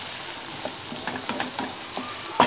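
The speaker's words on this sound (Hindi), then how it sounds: "अच्छे से इसे हमें भूनना है और सॉफ्ट करना है प्याज को" Onions softening in a hot pan for mutton bhuna gosht, a steady low sizzle with occasional stirring scrapes and a sharper clatter near the end, no talking.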